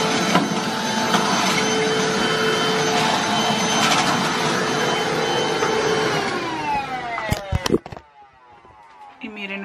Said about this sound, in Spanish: Miren, esa es la otra aspiradora que les digo,